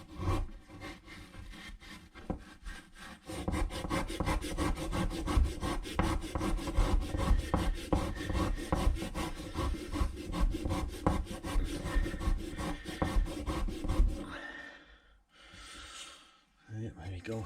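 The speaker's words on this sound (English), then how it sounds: "oil it all up, get a scotch pad, just give it a good scrub" An oiled scotch pad scrubs a car part from a Peugeot 205 GTi in fast, rhythmic back-and-forth rasping strokes, close and loud, before the scrubbing stops and a voice briefly speaks.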